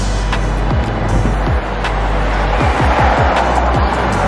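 Cars drive past one after another at a football training ground, each a brief, fairly close whoosh, with faint voices in the background.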